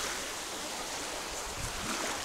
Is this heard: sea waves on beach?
yes